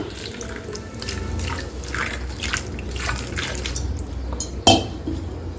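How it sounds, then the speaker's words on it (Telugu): Water pours and splashes steadily into a pressure cooker on a home kitchen stove while cooking egg bommidala pulusu, close up and continuous, ending with a sharp clunk of metal. "కొద్దిగా వాటర్ పోస్తా"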